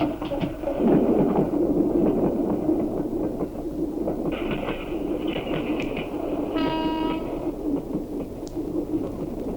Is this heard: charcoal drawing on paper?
no